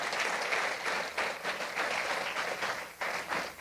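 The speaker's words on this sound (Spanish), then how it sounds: "si vas a dar un aplauso al Señor" A church congregation applauds at a Christian sermon, a steady wash of many hands clapping at moderate distance for several seconds, with brief dips in intensity.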